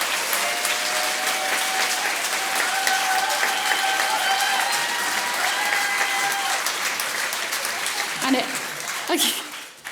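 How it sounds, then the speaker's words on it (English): Sustained applause from a large audience at a Celtic gathering concert, dense clapping that fades toward the end, with a few voices and some chuckles mixed in. "So can we give Fraser and Franco a really big applause, of course."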